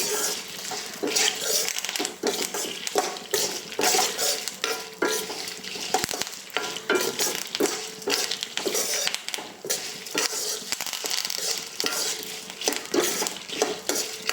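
Lentils, coriander seeds and cumin dry-roasting in a pan, with a steady dry rattle and scrape of stirring and faint crackle throughout, near and continuous, no talk.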